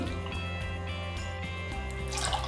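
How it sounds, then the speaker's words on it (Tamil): Water is poured into wheat milk in a kitchen while making Tirunelveli halwa, a continuous close trickling and splashing stream with a faint hum underneath. "இது கூட நான் 4 கப்பு தண்ணி சேர்த்துக்கலாம்"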